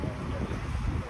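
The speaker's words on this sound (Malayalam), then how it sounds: "ആ കടലിൻ്റെ ആ ഏരിയയിൽ നിന്ന് നല്ല തണുത്ത കാറ്റ് വീശിട്ടുണ്ട്" Cold wind blowing in from the sea at a beachside resort in Pondicherry, a dense, continuous low rumble of wind buffeting the microphone without letup.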